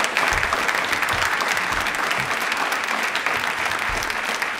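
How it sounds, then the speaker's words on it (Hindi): Warm applause from the audience on a televised quiz programme, steady, dense clapping throughout with a few low thumps underneath. "इनके लिए तालियां एक बार दिल से बजा दीजिए।"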